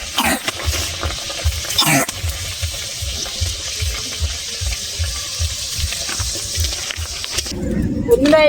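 A rohu fish kachori crackles steadily in hot oil in a home kitchen, with a continuous close sizzle and occasional stirring clatter, and a brief burst of louder bubbling near the end.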